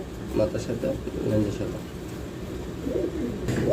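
Pigeons kept for sale cooing in short, soft bursts close by, with a background hum and people talking.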